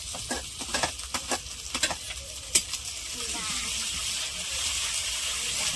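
Onions with ginger-garlic paste sizzle in a pan, with a string of scraping stirs and taps from a spoon early on, then a steady, even frying hiss.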